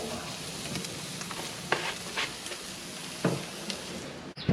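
Meat searing in a hot oiled pan for a Mexican restaurant-style meal, a quiet steady sizzle with occasional louder hisses and a few utensil knocks, heard close with no talking.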